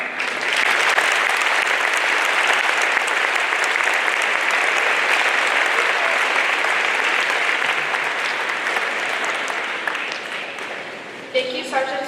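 Applause from a school Veterans Day assembly audience, a dense, steady clapping from a large crowd that fills the whole stretch, thinning and fading near the end.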